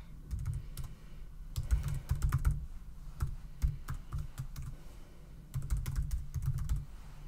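Quick bursts of typing on a computer keyboard as an email address is entered, close and fairly quiet, in uneven clusters of keystrokes with short pauses between.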